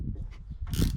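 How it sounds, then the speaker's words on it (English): A 1/4 inch ratchet turning a 13mm socket to loosen the exhaust pipe on a MotoVox minibike, a brief run of close mechanical clicks ending in a louder burst of ratcheting. "we're gonna take this pipe off, and we're using a 13mm socket on our 1/4 inch ratchet here"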